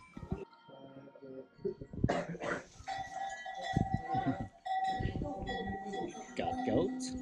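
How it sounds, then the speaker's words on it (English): Goats on a rural homestead in Portugal, their bells clanking irregularly while bleats and scattered farm noises rise and fall, with people talking nearby throughout. "Got goats."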